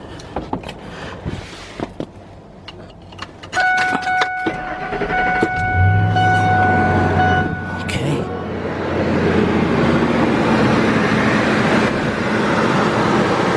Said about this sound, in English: Let's start this car. Let's start it up.